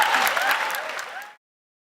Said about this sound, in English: give a warm round of applause to our judges that will be deliberating tonight